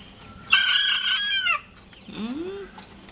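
A rooster and chickens kept on a balcony call out, first a loud, close one-second crow, then softer clucking and squawks trailing after it.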